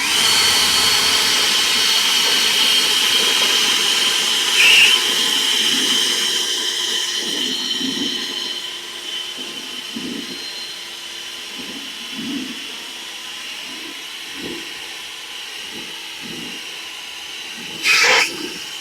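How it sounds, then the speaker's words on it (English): A battery leaf blower roars steadily, blowing water out of a fountain with a hissing rush, then fades and sputters as the battery dies, with faint knocks and a brief loud burst near the end. "You take your leaf blower, and you're just going to blow the water out."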